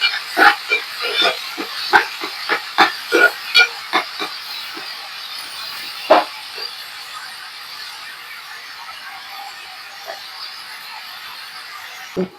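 Eggs frying in hot oil for egg puri, a steady sizzling hiss with a cluster of sharp pops and crackles early on, then a quieter continuous sizzle, close with no talk.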